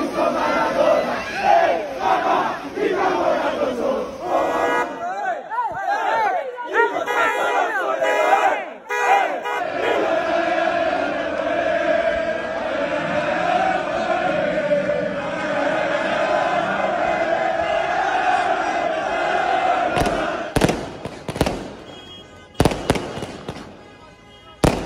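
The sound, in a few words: Napoli supporters making noise outside the Milan team's hotel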